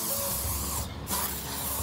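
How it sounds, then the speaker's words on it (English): Insect repellent sprays out in a steady close-up hiss, with a brief pause near the middle before a second burst, while bugs swarm around an outdoor spot chosen for infrared photography. "Gotta spray ourselves down."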